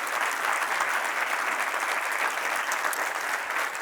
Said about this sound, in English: let's give the first big applause to our speakers, authors, moderators for their contents.